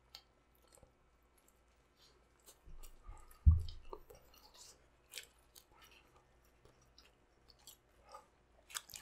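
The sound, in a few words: chewing spicy chicken wings during a mukbang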